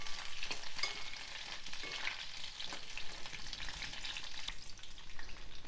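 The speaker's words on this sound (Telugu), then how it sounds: "వీటిని చక్కగా వేగనివ్వాలి, కలుపుతూ వేగనివ్వాలి" Slit bajji chilies frying in oil in a pan while being stirred, a steady close sizzle with scraping spatula strokes throughout, no voices.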